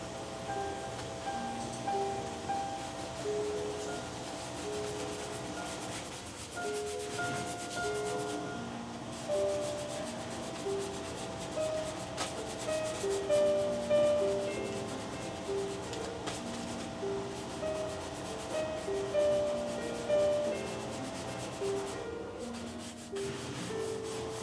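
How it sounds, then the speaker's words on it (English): Oil paint being scraped onto canvas with a painting tool, soft continuous rubbing and scraping strokes in a quiet room with a faint steady background tone, no speech. "Scraping in some brown middle ground here."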